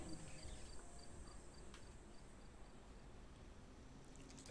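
Syrinscape swamp ambience plays very quietly, a soft bed of chirping insects over a low murmuring background, with a repeating faint high chirp early on.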